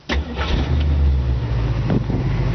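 A 1966 Ford Mustang convertible's rebuilt 289 V8 cranks and fires right up, catching loudly almost at once and settling into a close, rumbling idle with a few uneven revs.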